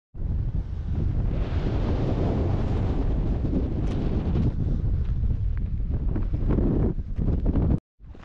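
Strong wind buffets the microphone in a Scottish glen beside a loch, a loud continuous roaring rush that cuts out abruptly near the end with no voices.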